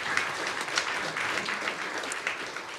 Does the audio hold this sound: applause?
yes